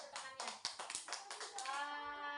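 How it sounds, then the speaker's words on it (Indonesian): Young children clapping their hands in a kindergarten class, a loose run of about a dozen claps that trail off, with background voices and a sustained tone near the end. "Tepuk tangan dulu, tepuk tangannya."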